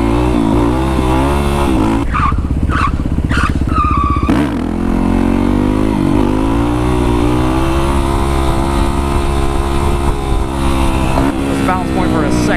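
A Yamaha WR450SM supermoto dirt bike ridden in first gear with fresh oil, its engine droning loud and close throughout with a few sharp revving bursts early on.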